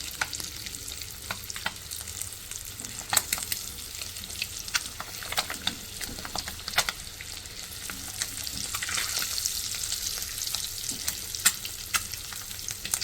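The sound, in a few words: egg curry masala lightly frying in a pan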